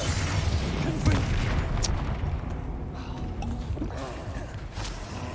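A Confringo spell explosion in the video game Hogwarts Legacy, a loud boom with a rumbling low-end tail amid ongoing combat noise and crackling effects.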